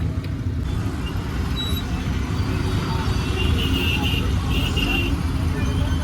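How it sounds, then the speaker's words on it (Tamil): Heavy street traffic near Banaras Hindu University in Varanasi, with auto rickshaws crowding the road: a steady low roar of engines and a dense, unbroken rumble, and faint babble of passing voices mixed in. "பயங்கர டிராஃபிக்காக இருக்குங்க. ஃபுல்லாகவே பார்த்தீங்கன்னா ஆட்டோ அது இதுன்னு நிறைய நிற்கிது."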